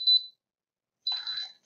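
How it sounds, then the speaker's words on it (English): A portable 1600A car jump starter sounds its warning beeper for reversed clamps, two short high electronic beeps separated by a pause, close and clear. "we also should get a beeping indicator letting you know it's wrong"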